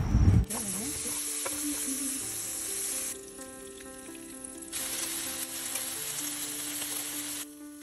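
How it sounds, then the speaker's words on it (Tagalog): A pot of water for cooking crabs boils and hisses steadily outdoors, a constant close fizzing bubble after a brief knock at the start, with no talk. "Ayan, kumulo na."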